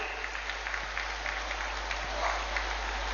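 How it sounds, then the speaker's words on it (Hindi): A crowd at an outdoor Indian government ceremony in Chaibasa, where a degree college foundation stone is laid, claps steadily under a low, constant hum, the applause sounding diffuse and moderately distant. "तालियां आपकी ओर से जोरदार होनी चाहिए।"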